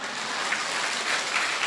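Audience applause in a Vietnamese Buddhist temple talk, a steady even patter of many hands clapping throughout, moderately loud and with no voices over it.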